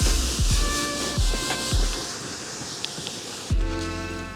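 Pressure washer spraying water over a Triumph Bonneville 900 motorbike, a steady close hiss with several short thuds and a renewed burst of spray near the end.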